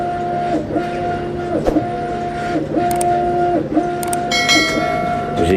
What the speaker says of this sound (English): As you can hear, the 3D printer's still going.